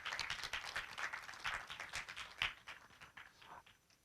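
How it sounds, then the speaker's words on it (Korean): Audience applause fills a Korea University hall at the 8th Korea Online Journalism Awards, a steady wash of many hands clapping at moderate distance, swelling briefly and tapering off toward the end. "큰 박수 부탁드리겠습니다"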